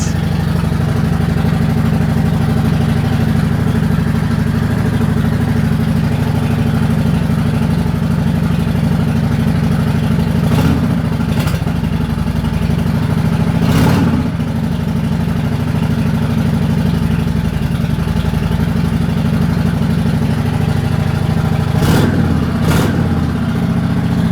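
A Yamaha V-Star 650 motorcycle engine idles with a steady low throb, broken by a few short sharp blips of the throttle, loud and close with no talk.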